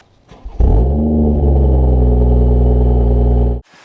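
A 2018 BMW M240i with the M Performance sport exhaust blips into a loud, sustained rev that holds steady for about three seconds before cutting off abruptly, close and alone.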